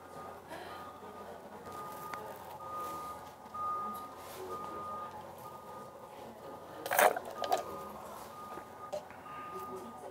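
A Tesla Semi truck reverses into a parking spot with faint, steady reversing beeps under outdoor background noise and people talking nearby, plus a brief louder clatter partway through.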